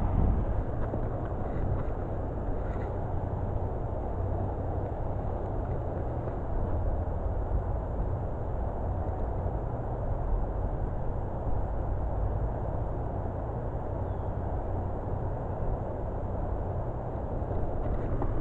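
Steady, low roaring wind rushes and buffets continuously, a dense broadband rumble with no pauses from start to finish.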